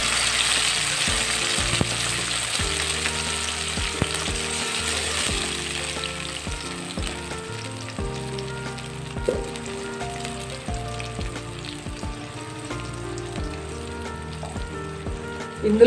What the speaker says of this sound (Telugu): ఇదంతా బాగా వేగి పైకి నూనె తేలేంత వరకు వేయించుకుందాం